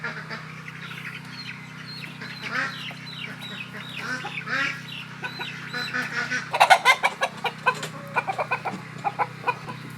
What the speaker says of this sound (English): Those chickens right there.